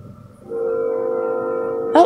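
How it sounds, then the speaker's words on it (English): A passing train sounds a sustained horn, one long steady blast that starts abruptly after a moment of quiet outdoor background, heard from a small town. "Oh, there is a train."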